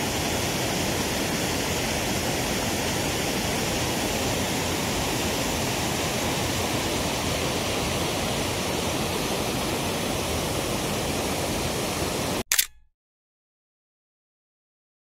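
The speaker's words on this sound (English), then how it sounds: "I've moved down now to the bottom of the waterfall" Waterfall in Carlisle pouring with a steady, dense broadband roar, heard close from its base and continuous until it cuts off abruptly near the end, followed by silence.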